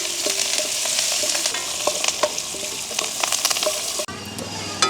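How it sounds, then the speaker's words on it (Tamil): Onions and green chilies fry in a pan, a steady hiss of sizzling broken by repeated scraping and clinking as a spoon stirs them, with a sudden drop in the sizzle near the end. "வெங்காயம் பச்சை மிளகாய் எல்லாம் வதங்கிட்டுது."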